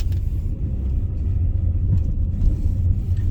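A car engine rumbles low and close as the driver rocks between reverse and first gear to free the car from snow after a Toronto snowstorm, with uneven surges of revving and steady idle rumble.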